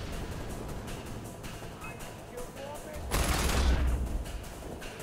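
A burst of Buzzsaw gun fire in the video game Far Cry 4: a loud, heavy roar that rises sharply in the second half over steady game background noise, with no speech.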